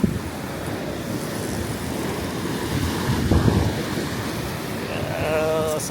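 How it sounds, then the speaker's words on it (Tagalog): Sea waves surging against a rocky shore at a rough fishing spot, a steady loud wash of surf mixed with wind noise on the microphone, swelling slightly midway. "Sabay natin sa alon."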